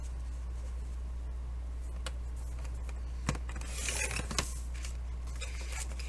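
Scissors cut through a strip of wallpaper for a handmade journal add-in, with a few sharp snips and crisp rustling clustered near the end of an otherwise quiet stretch.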